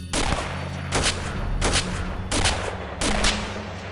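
A soldier in an XCOM game empties a full magazine, heard as five loud automatic bursts at roughly even intervals, each ringing out into a short tail before the next.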